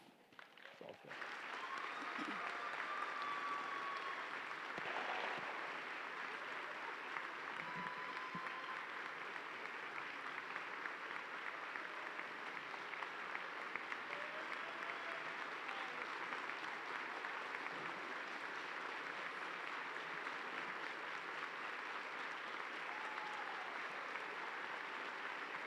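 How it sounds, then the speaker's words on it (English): A large audience at a FIRST robotics district event claps for the volunteers in sustained, dense applause. It starts abruptly and holds steady for about 25 seconds, with scattered cheers in the crowd. "Let's thank them all with a loud round of applause for all the work on your behalf."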